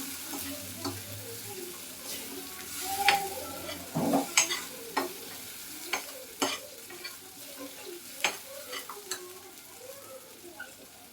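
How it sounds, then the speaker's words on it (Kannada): Paneer gravy masala is stir-fried over a low flame for a Hyderabadi dhaba-style dish: a faint sizzle runs under repeated scraping and stirring strokes of a spatula in the pan, close by and irregular. "ಸಣ್ಣ ಉರಿಯಿಂದ ಇದನ್ನು ಕುಟ್ಕೋಬೇಕು."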